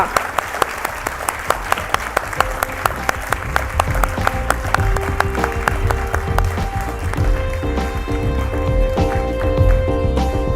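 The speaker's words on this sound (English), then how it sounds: "Let's have a round of applause for squadron leader Nikita Malhotra." At the NDTV Indian of the Year awards ceremony, an audience breaks into applause, starting with distinct rhythmic claps that swell into a dense, sustained ovation as music rises underneath.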